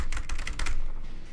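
A computer keyboard is typed on at a game's profile naming screen, giving a quick close-up run of about half a dozen clacking keystrokes followed by a brief pause.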